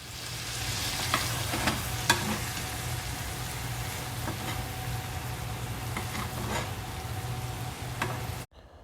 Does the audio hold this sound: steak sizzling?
yes